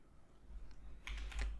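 Short burst of keystrokes on a computer keyboard as a value is typed in, close and fairly quiet, a few clustered taps toward the end with no talking.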